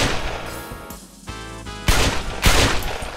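Gunfire in a Roblox hide-and-seek game crackles in rapid bursts with loud volleys and a short lull between, dense and close, layered over the game's noisy background.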